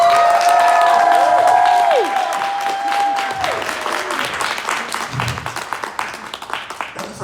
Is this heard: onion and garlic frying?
no